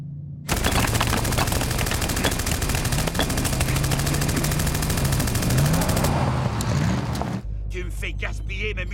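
Sustained automatic gunfire from an animated sci-fi action film, a dense continuous rattle of shots over a roaring vehicle engine lasting several seconds before cutting abruptly to quieter ambience.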